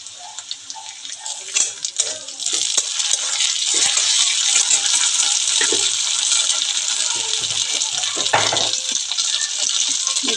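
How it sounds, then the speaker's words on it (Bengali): Pointed gourd fries in a hot pan, a loud bright sizzle that swells after a short start and holds steady, with occasional scraping and clinks from stirring. "ভাজা প্রায় হয়ে এসেছে, এতে দেব"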